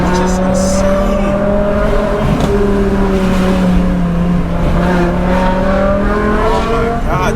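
A stroker V10 in a BMW M5 pulls steadily, its loud engine note rising and falling in pitch with the revs for several seconds, with rough road and wind noise underneath.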